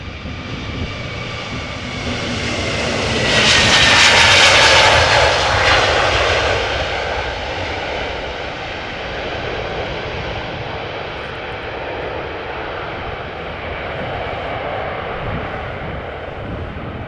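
A brand-new airliner passes at Amsterdam Schiphol Airport, its jet engines building to a loud whining roar around the pass, then easing into a long, steady rumble as it moves off.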